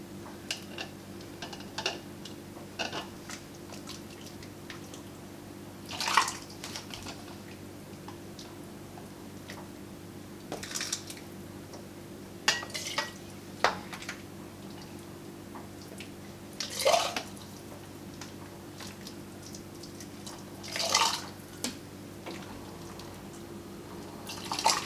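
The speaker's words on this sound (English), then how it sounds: "Ladle your hot soup into your hot jar." Hot French onion soup with long-cut onions ladled into a hot canning jar for pressure canning: scattered splashes, drips and light clinks of the ladle against glass, spread across a quiet stretch with no talking.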